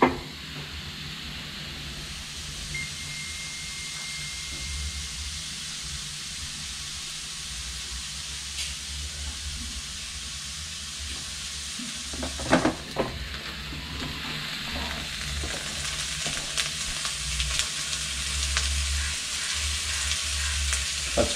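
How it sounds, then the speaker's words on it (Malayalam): Potato, onion and capsicum sizzling in a pan for an Afghani omelette, a steady frying hiss with scraping stirs and a louder clatter midway, close and continuous without talk. "ഇതിലേക്ക് നമുക്ക് നമ്മുടെ ഉള്ളിയും ക്യാപ്സിക്കം ഇട്ട് ഇളക്കിയെടുക്കാം."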